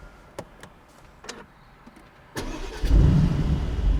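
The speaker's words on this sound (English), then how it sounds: "Let's just listen to that engine one more time" A supercar engine fires up with a sharp burst after a few faint clicks, then settles into a loud, deep, steady running roar close by.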